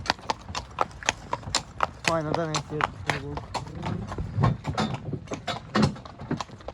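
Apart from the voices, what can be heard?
mare's hooves clip-clopping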